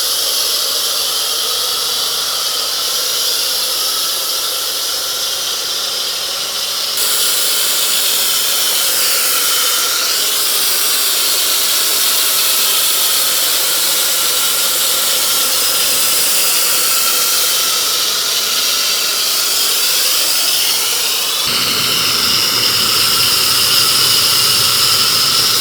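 Pressure washer spraying snow foam over a Lotus Emira during a wash, a loud continuous high-pitched jet hiss and pump whine that shifts slightly in tone as the spray moves, running unbroken throughout.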